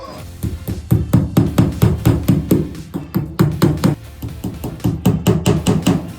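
Rapid hammer taps drive clips into place while spotlights are being installed in a converted shipping container home, coming in quick rhythmic bursts of close, sharp knocks with short pauses between runs.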